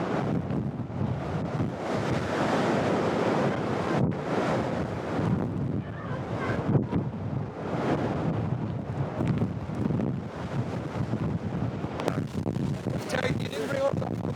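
Stormy sea waves surge and break while hurricane-force wind buffets the microphone with heavy roaring gusts, the surf rising and falling in loud swells, with voices talking beneath the din.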